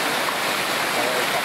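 Rural water running down a diverted channel toward a mill, a steady broadband rush with no breaks, close and fairly loud.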